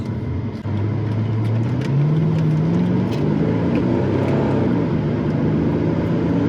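A 1999 Mercedes-Benz SL500 (R129) V8 hums on the move with the top down, its engine note climbing smoothly as the car accelerates, fairly quiet and steady beneath wind and road noise.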